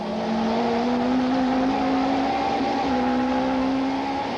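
Super Touring race cars, including a Nissan, lap Kyalami circuit in 1995, engines holding a loud steady high drone with a brief gear-change dip midway, no voices heard.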